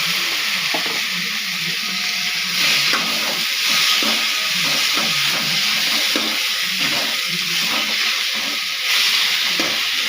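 Steady loud sizzling of greens frying in hot oil, a dense continuous hiss with faint stirring clatter underneath, no voices.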